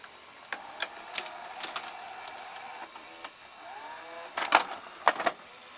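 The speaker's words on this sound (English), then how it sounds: "let's watch it eject one time" A Fisher FVH-4000 VCR ejects a tape with soft mechanical whirring and gear noise, broken by several sharp clicks and clunks, the loudest coming near the end, quiet and close with no talk.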